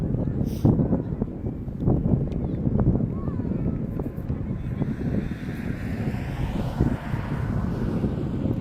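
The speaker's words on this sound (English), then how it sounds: "Conditions aren't perfect. It's a little windy." Wind buffeting the microphone at an outdoor youth soccer match, a continuous rough low rumble with gusty surges, fairly loud and close, with faint voices underneath.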